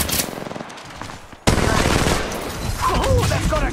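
Automatic weapon fire from Apex Legends Mobile, played in first-person view: bursts of rapid, loud shots, briefly quieter before an abrupt return to sustained close-range firing with a dense crackling rattle.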